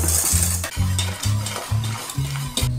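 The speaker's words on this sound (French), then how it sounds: "Je mélange brièvement et je remets dans la casserole." A whisk or spoon stirring pastry cream in a saucepan for a Kinder Bueno dessert, with repeated rhythmic strokes of scraping and clinking against the pan, close and clear with brief pauses between passes.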